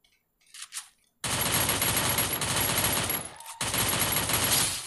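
Rapid, continuous automatic gunfire in the Free Fire video game roars for about two seconds after a brief lead-in, breaks off for a moment, then resumes just as loud.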